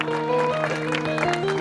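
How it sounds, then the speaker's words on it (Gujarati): Audience applause at a village folk dayro held for a Ram temple consecration, a short burst of clapping mixed with sustained musical tones from the stage. "જોરદાર તાળીઓના ગણગાથી ભાઈ વિજયભાઈ પટેલને બતાવો."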